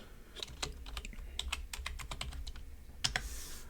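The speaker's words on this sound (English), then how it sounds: "so here I'm going to type in Mary Jones" Fingers type on a computer keyboard, entering a name into a DNA-match spreadsheet: a quick, irregular patter of close key clicks with a couple of sharper taps near the end, alone without talk.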